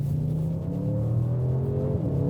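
A 2020 Audi RS6 on a country road accelerating through its gears in a dynamic gearbox setting, a close engine drone rising in pitch, with a quick shift dropping the revs before climbing again.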